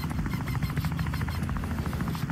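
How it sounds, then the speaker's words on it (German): A helicopter flying in the video game Wobbly Life, a steady dense rotor buzz and hum holding at even loudness throughout, with no talk over it. "ein neuer Helikopter, den ihr da vorne seht."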